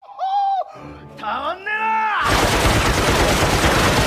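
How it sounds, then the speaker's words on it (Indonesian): Heavy large-caliber gunfire in an anime battle, a modern weapon firing on sword fighters: after a couple of seconds of shouting voices, a loud, dense, continuous burst of rapid shots takes over to the end. "mereka pun tiba-tiba diberondong oleh senapan berkaliber besar"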